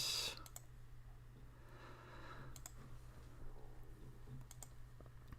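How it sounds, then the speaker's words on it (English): Quick, scattered clicks of frantic typing on a computer keyboard come in faint irregular bursts over a low steady hum in a quiet room. "you guys can all hear my frantic typing as I'm trying to figure everything out here"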